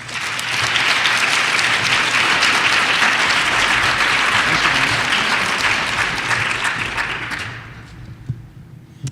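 A conference audience applauds to welcome a keynote speaker, a dense, loud and steady clapping that lasts several seconds and then tapers off near the end, with no talk over it.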